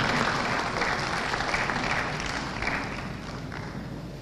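Applause from an audience at a South East venture capital program event in Enugu, sustained crowd clapping that slowly fades in loudness, with faint voices beneath it.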